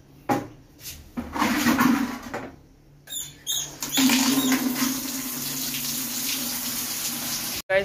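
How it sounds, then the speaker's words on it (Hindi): Tap water gushes into a bucket in two spells, a steady rushing flow that stops abruptly, with faint background noise between. "हमारे बाहर बाल्टी में पानी मांग रहा है, पानी भर के देते हैं"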